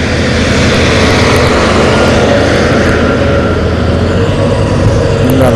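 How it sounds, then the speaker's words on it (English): A small auger cores holes through pavement, producing a loud, steady engine drone and grinding rumble that holds constant throughout, close by and without speech. "We've got a real small auger."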